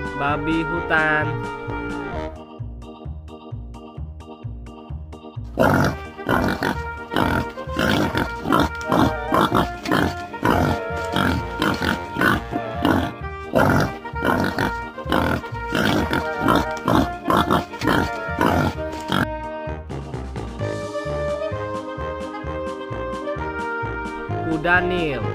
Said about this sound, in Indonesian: babi hutan.